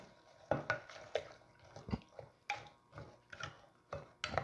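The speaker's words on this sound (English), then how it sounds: "Now I got my 3 eggs, they're going in. We're going to whisk that around." Eggs are whisked into a sugar mixture with pecan pieces, a run of soft wet taps and sloshing strokes against a bowl, close and fairly quiet, with no talk.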